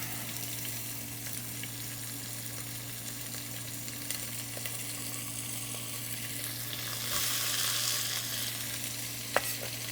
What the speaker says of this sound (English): Start sauteing our onion.